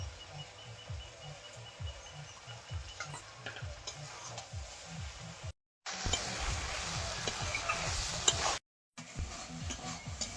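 Stirring Malabar spinach chorchori with shrimp and cumin paste in a pan: soft, repeated scraping strokes over a low, steady sizzle, cut by two brief dropouts.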